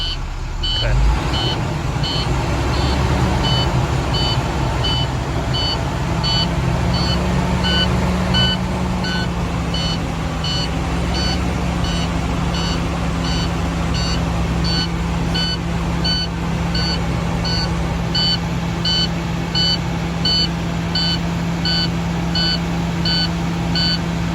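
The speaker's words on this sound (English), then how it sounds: "I'm gonna raise up the RPMs in order to silence the alarm so that you can hear me better" Steady repeating electronic beeps from a Class A commercial truck's dashboard alarm over a loud, constant engine idle, continuing evenly throughout with no pause.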